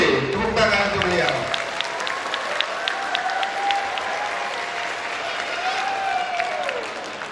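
Applause from an audience at a campaign event in Malang for Indonesia's 2024 vice-presidential candidate Mahfud MD, a steady, broad wash of clapping over several seconds with crowd noise and a voice speaking beneath it.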